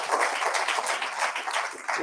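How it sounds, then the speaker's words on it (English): Audience applause in a lecture hall, dense steady clapping from many hands, loud and sustained throughout with no talk over it. "let's give him a round of applause for that"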